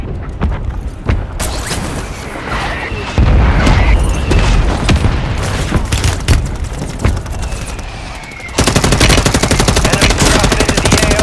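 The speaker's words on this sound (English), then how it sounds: "Mortar strike inbound now." Mortar strike in Call of Duty Warzone: heavy booming explosions land amid rapid bursts of machine-gun fire, loud and close, with a dense crackling barrage that swells and ends in a sustained, intense volley.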